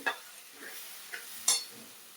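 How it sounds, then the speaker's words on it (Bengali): A few soft stirring strokes in a pan of fried potatoes with watered spice paste, turmeric and cumin, faint scrapes over a light sizzle, close and sparse. "এখন আমি এখানে মশলাটা জল করে দিয়ে দিলাম।"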